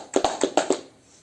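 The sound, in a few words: class applause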